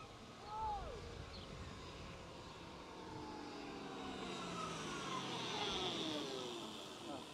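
A Zero SR/F electric motorcycle accelerates, its motor whine climbing steadily in pitch with a faint rising hum and road noise, fairly quiet and without spoken words.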